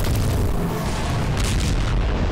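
Gunfire in an animated skibidi toilet zombie episode, sustained booming blasts and bursts that fill the whole clip loudly with no clear gaps.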